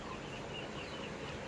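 Shamo chickens clucking on a small farm among other poultry, soft and distant beneath a steady hum of background noise, with no voices present.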